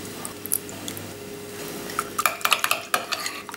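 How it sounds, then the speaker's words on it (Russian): A spoon clinks and scrapes against a bowl while stirring a sauce of heavy cream and orange juice in quick bursts, close by, with a light wet mixing sound and no voices. "Перемешаем до однородной консистенции, соус готов"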